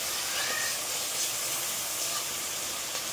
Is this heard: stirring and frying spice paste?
yes